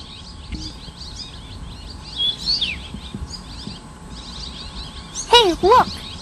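Formosan Yuhina calls at Tengjhih National Forest Recreation Area, a few short chirps and then a louder burst of whistled notes near the end, with faint talk and background noise.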